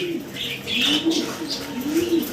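Soft, low coos from Maltese pigeons repeat in a gentle rolling rhythm, close by, with faint chirps overhead.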